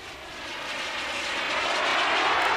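A radio-controlled jet turbine-powered model aircraft flies past with a steady hissing roar that grows gradually louder and nearer, no voices present.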